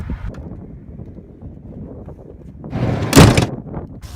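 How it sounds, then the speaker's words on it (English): A door on a careened, tilted riverboat bangs shut with one loud, sharp impact after a stretch of low rumbling and wind-like noise. "The door slammed to because it was on the careened side"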